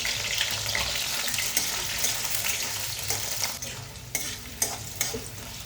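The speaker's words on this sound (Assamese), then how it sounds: "কেৰাহীটো গৰম, ইয়াত মই তেল বহাই দিলোঁ। মই আলুখিনি অকণমান ফ্ৰাই কৰি ল'ম ৰাজমাহ দিবলৈ।" Potatoes fry in hot oil in a kadai, giving a steady close sizzle that is broken by stirring clatter and scraping, with no talking.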